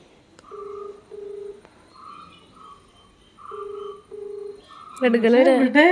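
An outgoing call rings unanswered, sounding as paired electronic tones repeating with pauses between, before a voice starts speaking at the end.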